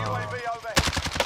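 LC-10 submachine gun firing in Warzone, a rapid burst of about eight close, loud shots in the second half after a brief stretch of quiet game tones and faint voice.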